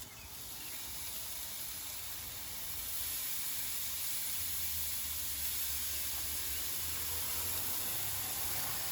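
Pork BBQ skewers on a grill over medium heat give off a steady, soft sizzling hiss that holds evenly throughout, fairly quiet and with no talking.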